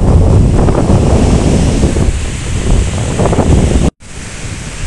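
Surf breaks along the seashore in a continuous, loud roar of rushing water mixed with strong wind noise on the microphone, with a sudden cut to silence just before the end.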